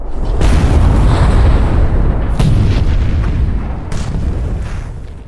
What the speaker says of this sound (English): Another armored personnel carrier detonates a mine and is destroyed.